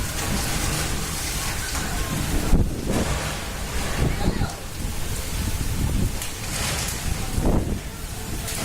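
Cyclone Amphan's strong winds roar and gust in Howrah, West Bengal, battering the mic in heavy, surging blasts with rain-like hiss, rising and falling in loud, rough swells.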